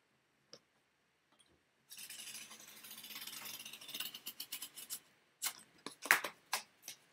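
Packing material being cut while a painting is prepared for shipping: a stretch of rough rubbing and crinkling followed by several sharp, close snips and clicks, with quiet gaps, no talk.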